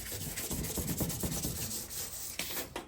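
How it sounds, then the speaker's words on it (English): Steady rapid rubbing of fine 400-grit sandpaper against a metal stove range hood, close and continuous, with quick back-and-forth strokes and no talk. "and we are using what grit sandpaper? 400."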